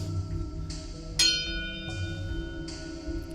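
A bell tone struck once within a looping electronic music performance, ringing bright and clear over a steady layered drone with soft repeating accents.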